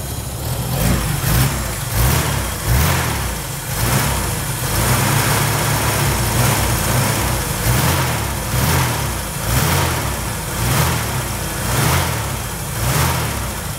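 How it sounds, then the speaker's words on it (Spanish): A Ford Taunus Coupe GT SP classic car runs steadily with a low, even engine rumble and slight rhythmic pulsing, close and continuous throughout with no talking. "Los invito a que escuchen un poquito el sonido del Taunus."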